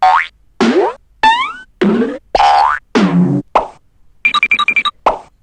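Series of cartoon sound effects: several springy boings with rising and falling pitch sweeps, each short and separated by gaps, then a quick run of bright plinking blips and a final short boing, loud and close with no talk.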